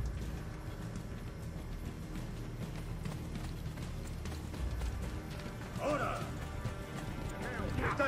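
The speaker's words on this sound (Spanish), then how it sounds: "Voy a llevar un caballo, ¿no?" A horse gallops in the video game Assassin's Creed: Brotherhood, with steady clip-clop hoofbeats running through the whole stretch and a brief whinny-like call near the end, over a continuous game soundscape.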